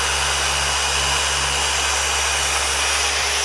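A car polishing machine spins on car paint with a constant, loud, whirring hum that holds steady and unbroken throughout.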